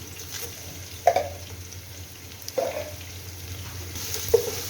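Two spoonfuls of fenugreek seeds hitting hot oil while cooking a bottle gourd and snakehead fish curry, a low steady sizzle punctuated by three sharp splashy bursts as ingredients drop in.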